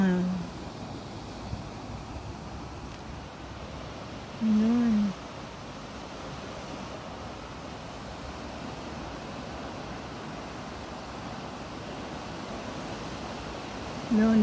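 Strong ocean surf in bad weather roars steadily without a break, a dense wash of crashing water mixed with some wind noise.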